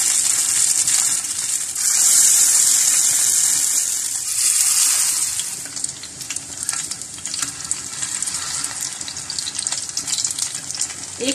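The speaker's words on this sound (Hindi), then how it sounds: "यहां तवे पर मैंने 4 से 5 टेबलस्पून ऑयल डाला है, इसमें यह कबाब फ्राई करते जाएंगे।" Beef mince noodle kebabs frying in a few tablespoons of oil on a tawa, a steady loud sizzle and crackle throughout, with occasional stirring clatter and no talk.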